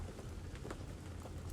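Steady patter of rain drumming on the fabric of a hot tent, soft, dense and even throughout with faint scattered drop ticks and no voices.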